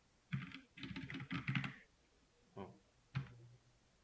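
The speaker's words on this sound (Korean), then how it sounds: "왼쪽 방향키 지속해서 누르고 있으면" Quiet clicks of computer keyboard keys in a brief cluster of rapid taps followed by two separate single presses, close and isolated against a silent background.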